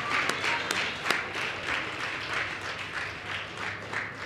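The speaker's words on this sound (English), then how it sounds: "Give her and all the other medal athletes who didn't medal a round of applause." Audience applauding athletes at a CARIFTA Games recognition ceremony, steady moderate clapping with a few sharp close claps early, continuing throughout.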